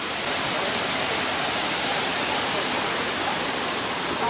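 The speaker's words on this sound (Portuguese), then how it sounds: "Olha que bonito. Essa cascata aqui." A waterfall cascade at Campos do Jordão, a broad, even roar of falling water that holds constant and fairly loud throughout with no voices over it.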